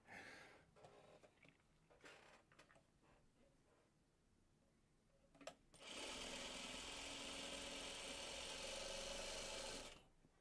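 A sewing machine stitches a friendship quilt block after a few seconds of quiet handling, running in one steady, close whirring burst of about four seconds before stopping; no voices are heard.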